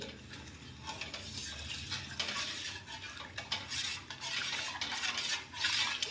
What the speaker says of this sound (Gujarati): આવી રીતે ધીમે આંચે હલાવતા જવાનું છે